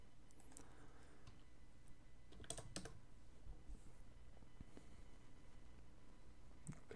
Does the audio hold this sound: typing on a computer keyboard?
yes